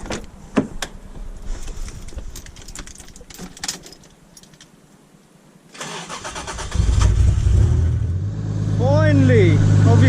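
A Toyota Supra with a newly installed front-mount eBay intercooler cranks and fires into a loud, steady idle close by, after a stretch of nearby talk and workshop clatter.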